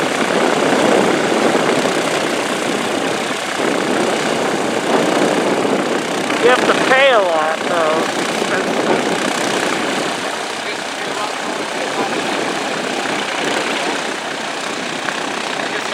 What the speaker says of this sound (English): The Navy airplane. Not Air Force, Navy.